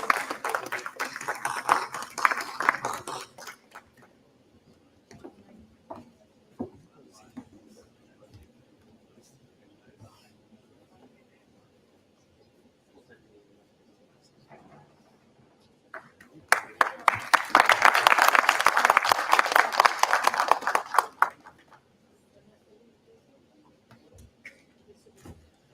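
An audience gives two rounds of applause at the valedictory session of a university law faculty's international conference: a loud burst of clapping, a quieter stretch with faint murmurs, then a second sustained, dense round before it dies away.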